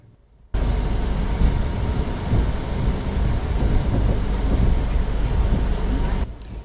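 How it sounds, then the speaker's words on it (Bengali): Deccan Queen Express pulling out of Pune Junction: a loud, steady rumble and roar of the moving electric train, broad and continuous for about six seconds after a quiet start, fading slightly at the end. "ট্রেন আমাদের ছেড়ে দিল পুনে জংশন স্টেশন।"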